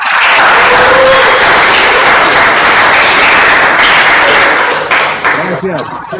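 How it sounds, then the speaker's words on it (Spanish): A conference audience applauds speaker Jaime Dunn with dense, loud, sustained clapping that fills the whole stretch, with a thump and a voice speaking near the end as the applause thins. "te damos un aplauso."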